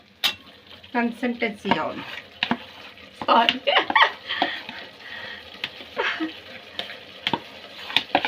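A spoon stirs and scrapes spicy masala for chicken biryani in a pot, in irregular clinks and mushy scrapes close up, with bursts of speech between.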